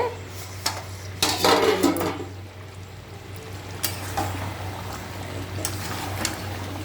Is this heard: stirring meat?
yes